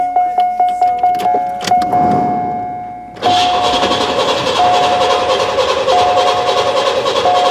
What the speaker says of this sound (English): our next thing to do is to fire this car up